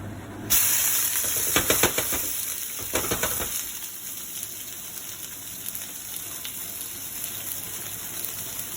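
Shrimp heads dropped into hot olive oil, an abrupt loud hissing sizzle that crackles busily for a few seconds, then settles into a quieter steady fry, no speech.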